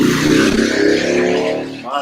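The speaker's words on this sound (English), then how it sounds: "That was a motorcycle." A motorcycle with a muffler that sounds holed passes along a road, giving a rough, buzzing engine drone that holds steady, then fades away in about two seconds.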